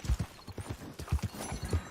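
Horse hooves clip-clop in Red Dead Online, a quick, steady run of close hoofbeats repeating in an even rhythm, fairly quiet and with no talking over them.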